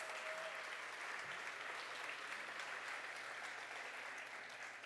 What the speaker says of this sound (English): Let's give another round of applause for Ayanna